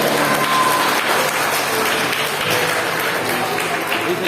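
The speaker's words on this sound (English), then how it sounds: "this is the prize distribution, so you have to clap loud" A school audience claps at a prize distribution ceremony: dense, sustained applause from many hands, loud and continuous throughout with no pauses.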